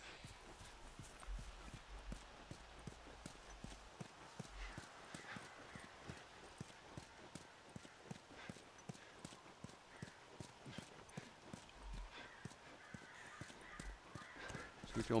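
Hooves clip-clop in a steady, rhythmic walking gait as a horse is ridden in The Last of Us video game, with faint ambient sounds in the background.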